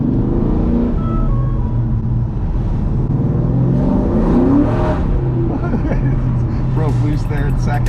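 A Ford Mustang New Edge with a modular V8 pulls hard up a twisty mountain road, its engine drone loud and steady inside the cabin with the pitch climbing, while someone talks over it.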